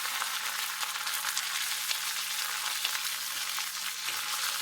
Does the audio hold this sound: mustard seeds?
yes